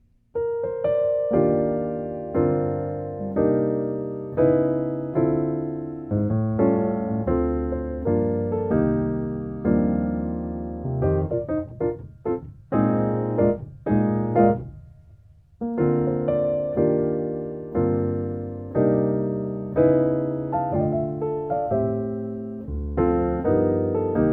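Solo piano plays rich, lush gospel-jazz chords at a relaxed tempo, with flowing voicings, brief runs and sustained harmonies throughout.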